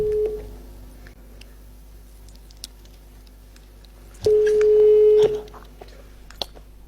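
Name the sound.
telephone call ringing tone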